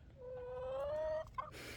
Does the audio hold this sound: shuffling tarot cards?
no